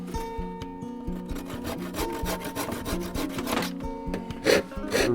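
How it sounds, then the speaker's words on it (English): A hand saw rasps back and forth in a steady rhythm as it cuts a rough end off a wooden coat hook. The strokes are close and fairly loud, and no one speaks. "We'll need to cut that off with the saw."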